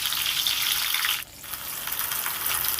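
Pointed gourd slices fry in hot oil, giving a steady bright sizzling hiss that briefly drops out near the middle before resuming, with no talk.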